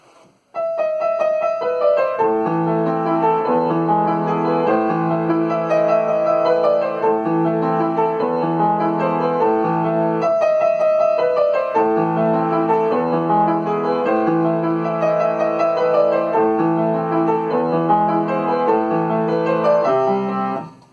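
A piano plays Für Elise as a flowing, continuous line of notes at an even, unvaried level, without phrasing, the phrases running together without swells or pauses.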